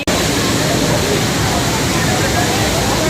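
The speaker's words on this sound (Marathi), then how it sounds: "इकडे अजून एक धबधबा आहे" Palasdari waterfall, a steady roar of falling water close by, loud and unbroken broadband rush filling the whole clip with no pauses.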